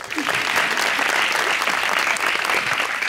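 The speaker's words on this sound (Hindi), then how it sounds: "उनके लिए भी तालियां" Studio audience applause on a Pakistani television talk show fills the room with steady, dense clapping from start to finish, close and loud, with no voice heard over it.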